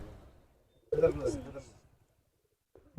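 A patta pigeon gives a soft, close coo in an otherwise quiet setting, with a low voice nearby.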